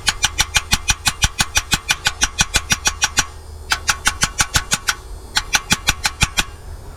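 A squarebody truck's 350 engine cranks in rapid, evenly spaced rhythmic pulses, close and loud, with a brief pause before the cranking resumes; no clear catch to a steady run.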